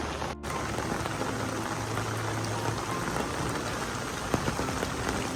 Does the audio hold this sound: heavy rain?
yes